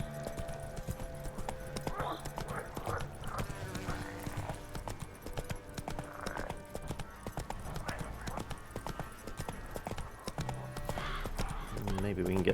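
Roach, Geralt's horse in The Witcher 3, gallops with steady hoof clip-clops over a game soundtrack, a brief whinny near the end, and someone talking throughout.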